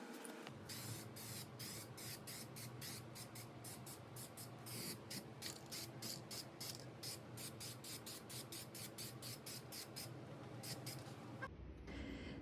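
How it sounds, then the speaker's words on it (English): Spray can laying primer onto particle board furniture drawers, a steady close hiss broken by rapid rhythmic bursts as the nozzle is pressed and released, ending abruptly near the end. "Sometimes when you use a spray can,"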